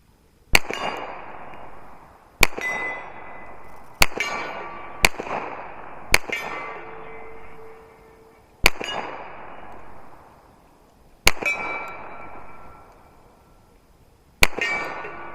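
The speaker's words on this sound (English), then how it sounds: "we're just going to shoot from these spare mags he sent with me and see how it runs" Single pistol shots from a Remington R1 1911 fired at 30 yards, eight sharp cracks spaced a second or two apart, each ringing off a steel target, loud and isolated with no talk.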